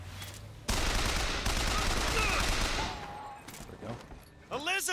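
Sustained automatic gunfire in Bioshock Infinite, a loud continuous burst lasting a couple of seconds before fading into scattered shots and game sounds, with someone talking briefly at the end.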